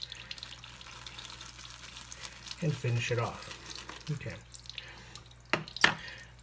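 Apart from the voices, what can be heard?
water drizzled into a bowl of CBL shaving soap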